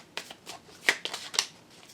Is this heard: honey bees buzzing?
no